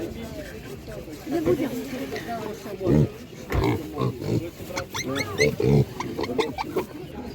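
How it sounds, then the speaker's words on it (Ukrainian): Piglets grunt and snuffle in short, irregular bursts close by while eating grass, with people talking over the animal noises. "Видно, що поросятка їдять, бачите, траву"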